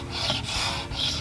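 A hand scraper shaves a wooden floor board in two quick rasping strokes, close and scratchy, with a brief pause between them.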